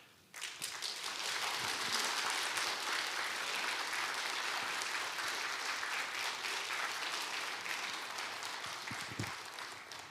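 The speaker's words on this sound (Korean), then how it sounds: "큰 박수로 환영해 주시기 바랍니다" Sustained audience applause welcoming a guest speaker at a church counseling seminar, a dense steady wash of clapping from a large indoor crowd lasting throughout, tapering slightly near the end.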